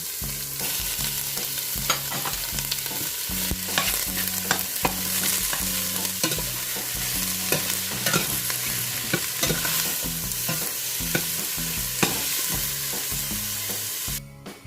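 Onion and beef sauté in a hot pan for a Korean mushroom soup, a steady loud sizzle with frequent stirring scrapes up close and no one speaking.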